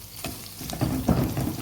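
Hot oil tempering (tadka) sizzles in a pan in a home kitchen, a loud close crackling hiss that swells as the spices hit the oil.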